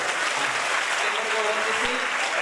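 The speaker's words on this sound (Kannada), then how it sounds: "ಚಪ್ಪಾಳೆಗಳನ್ನು ತಟ್ಟುತ್ತಾರೆ" A crowd claps loudly and steadily for a couple of seconds at a religious memorial festival, a dense, continuous burst of applause.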